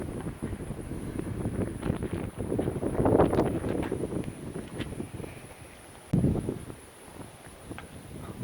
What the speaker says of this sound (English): this is the windy side of the lake